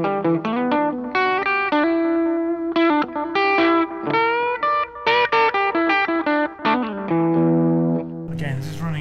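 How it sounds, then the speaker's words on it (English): An electric guitar played through a gentle, restrained 69 fuzz pedal into a booster pedal, with sustained distorted chords and single-note lines ringing out loudly and continuously, with no talking over it. "Now 69 fuzz is a fairly restrained fuzz, it's quite gentle."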